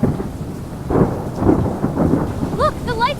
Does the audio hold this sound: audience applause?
no